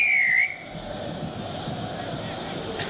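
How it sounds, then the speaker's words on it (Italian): A short referee whistle blast, sounded from a TV studio control room during a televised football contest, rings clearly for about half a second before fading into room noise. "3-2-1, il fischio dalla regia."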